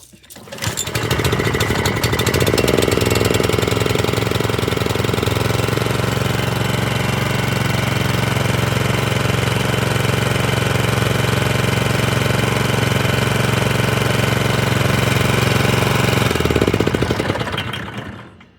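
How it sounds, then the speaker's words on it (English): A Kawasaki FJ100 engine on an Atco Allett mower runs steadily and loudly close by for about sixteen seconds with an even idle drone, then cuts out at the end. "first pull Kawasaki working again, and actually working really sweet"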